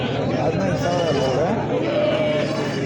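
Goats and billy goats bleat repeatedly with wavering cries at a busy weekly livestock market in Tirupati, the animals close and mixed with a steady hum of people talking.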